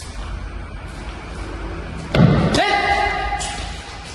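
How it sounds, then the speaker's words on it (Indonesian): A sudden knock or thump sounds once inside an abandoned restaurant in Sidoarjo, sharp and fairly close, trailing into a short ringing tone amid quiet room noise. "Barusan ada suara ketokan ya."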